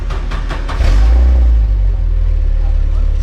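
A Volkswagen GTI MK3 engine cranks with a few rapid clattering pulses, catches and surges into a deep, loud rev, then settles into a heavy, rumbling idle.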